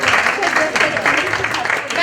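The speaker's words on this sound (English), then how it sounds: "Everyone clap for Ekta." Audience at a book launch clapping in a short burst of applause, heard under a louder voice talking over it.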